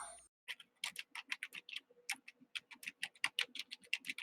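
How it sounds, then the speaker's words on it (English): Rapid keyboard typing, a dense run of crisp key clicks with brief pauses, close and fairly quiet. "Somebody's typing. I can hear it,"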